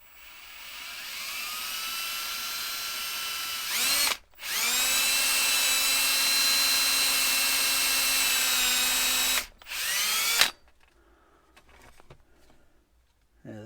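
A power drill bores a hole in a piece of farm machinery under repair, whining loudly in two long sustained runs with a brief stop between, then cutting out to quiet handling noises.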